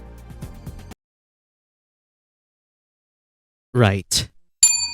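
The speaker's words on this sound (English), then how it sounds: "Ayaka, please ring the bell." Bell ding sound effect: one short, bright ring near the end, after a brief spoken word. Earlier, music plays and cuts off into silence.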